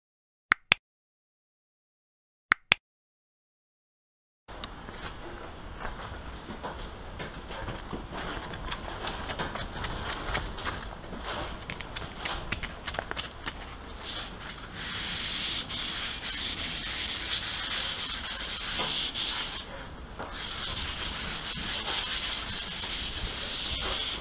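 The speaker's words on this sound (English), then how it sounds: "So, I'm going to get myself 220 grit sandpaper, and I'm going to do it by hand." Primer being block sanded by hand with 220 grit sandpaper, a couple of brief taps and then continuous rhythmic abrasive rubbing strokes, close and steady, growing slightly louder and harsher toward the end.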